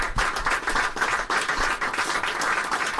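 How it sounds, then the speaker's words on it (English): A room full of current and former employees applauding together, a dense steady clatter of many hands, close and fairly loud, lasting a few seconds. "A little round of applause for all of us."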